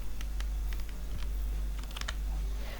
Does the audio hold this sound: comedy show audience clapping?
no